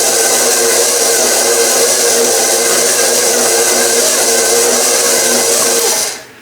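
Electric mixer beating molasses cookie dough, a loud, steady high whine running continuously for about six seconds before cutting off abruptly at the end.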